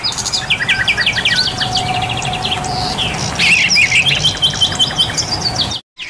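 Many birds chirp and tweet at a busy bird market, with dense overlapping calls, squawks and trills filling the scene continuously under a steady background hum before cutting out abruptly at the end.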